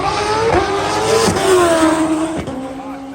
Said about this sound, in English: a top fuel bike at Maryland National Raceway.